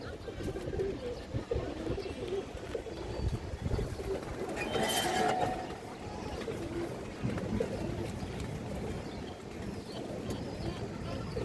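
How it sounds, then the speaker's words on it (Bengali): Silver khaki pigeons coo softly and repeatedly nearby over a rumbling, busy background, with a brief rush of noise midway. "এটা সিলভার খাকি কবুতর"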